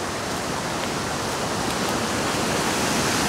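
A river rushing near an upstate waterfall makes a steady, loud, broadband wash of water that never changes, with no voices.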